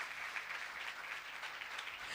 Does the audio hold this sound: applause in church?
yes